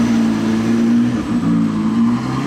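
Novitec-tuned Ferrari 812 supercar idling on a street in Monaco, a loud, steady engine drone close by with slight wavering in pitch and no clear rev.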